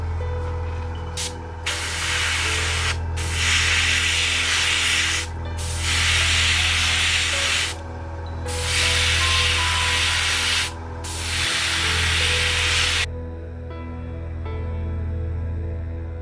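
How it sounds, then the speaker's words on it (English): An airbrush sprays Vallejo black primer in close, steady hissing bursts of about two seconds each, separated by brief pauses, with a low compressor hum running underneath. "I prefer to use this, which is Vallejo Black Primer, which I'm going to use with my airbrush"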